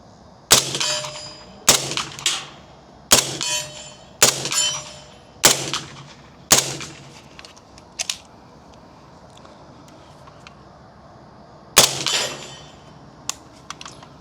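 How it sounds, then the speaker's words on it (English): Suppressed shots from a PTR 9CT SP5-clone pistol-caliber carbine fitted with a B&T suppressor: six sharp cracks in an uneven cadence, a pause, then one more, each crack clear and close with a short ringing tail. "then we'll switch to my other clone, PTR 9CT originally, SP5, and another B&T suppressor for fixed PCC carbine rifle"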